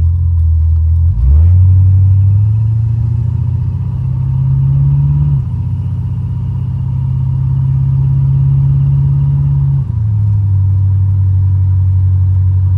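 A 1986 Buick Regal Limited with a big block engine and Holley EFI pulling hard, a loud, close, deep engine roar that climbs in pitch through the gears, with shifts heard as dips, sustained for over twelve seconds.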